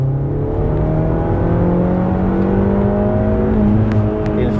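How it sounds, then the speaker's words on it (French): Naturally aspirated sports car engine pulling hard in second gear from about 3000 rpm, a loud, steady, close-up intake and exhaust note that climbs smoothly and keeps going without pause. "nous faire une petite reprise pour qu'on puisse apprécier ce joli bruit atmosphérique"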